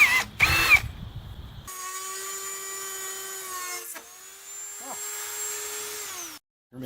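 A power drill whines steadily at high speed for several seconds, briefly dipping in pitch before spinning back up, then cutting off abruptly.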